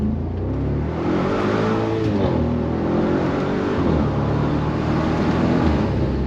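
A BMW X5 50i V8 revs with its Valvetronic mufflers open, a deep, loud exhaust roar rising and falling in pitch close by, with no voices over it.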